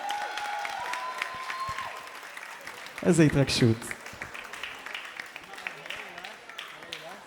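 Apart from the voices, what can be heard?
wedding guests applauding the bride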